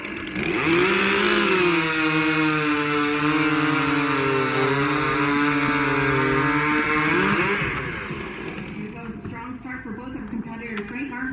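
A stock chainsaw rips through timber in a lumberjack racing event, a loud sustained high-revving engine whine that holds for several seconds, then drops and sputters as the cut finishes, with voices around it.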